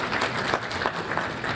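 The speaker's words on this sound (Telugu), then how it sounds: "ఒకసారి చప్పట్లతో" Audience applause at a youth parliament event, a dense steady wash of many hands clapping at once, sustained and fairly loud for the whole stretch with no talk over it.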